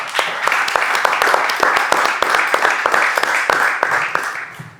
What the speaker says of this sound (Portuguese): eu queria pedir uma salva de palmas para os convidados